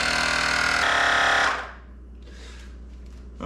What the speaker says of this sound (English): So I'm gonna use a compressor. Pump it up to around 110.